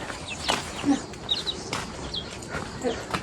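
Chickens cluck and peep in short scattered calls, fairly faint, with a murmur of voices and outdoor background noise underneath.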